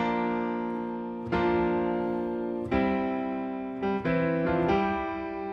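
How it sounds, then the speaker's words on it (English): Piano playing a few struck chords built on octaves with an inner note, each ringing out before the next, ending with quicker successive strikes. "the octaves with the added note in the middle"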